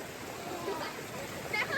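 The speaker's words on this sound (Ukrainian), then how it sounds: "Так, ми прийшли на водоспади." In a Brazilian jungle, a waterfall gives a steady, moderately distant rush that is broad and constant, with speech heard faintly over the flow.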